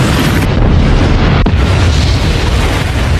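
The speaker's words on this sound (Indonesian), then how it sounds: "kapal pun akhirnya meledak membuat Jack ikut tewas" A ship explodes in a film scene, a loud continuous rumbling blast filling the whole stretch with heavy low-end roar and dense debris noise, steady and overwhelming throughout.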